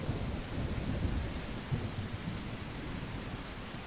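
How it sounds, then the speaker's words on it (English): Video-game rain triggered by a cheat falls as a steady, soft wash of broadband hiss with a low rumbling undertone like distant thunder, faint and without voices. "So let's see what happens if I make it rain. I'll go into my cheats here and select rain."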